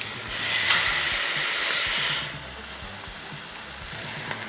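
Short ribs brown in a hot pan, giving a steady, fairly soft sizzling hiss that is stronger for the first couple of seconds and then eases to a quieter sputter.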